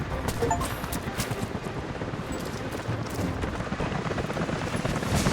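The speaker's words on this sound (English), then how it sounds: "Helicopters are headed your way." A helicopter in the video game Rise of the Tomb Raider approaches with a steady, loud rotor roar that fills the whole clip, with no talk over it.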